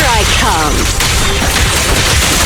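Rapid bursts of gunfire from a quick-shot attack in Zenless Zone Zero on PS5, loud and dense, mixed with game effects and a character's voice.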